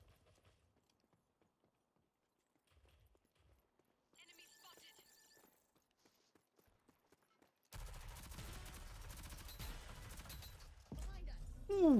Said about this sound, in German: Das war eine Sniper.